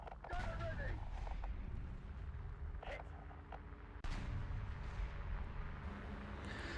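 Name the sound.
tank cannon firing and hitting armor, from a video game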